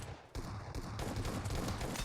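Rapid bursts of gunfire in a team-based shooter video game, dense and continuous, loud and close for about two seconds with no talk over it.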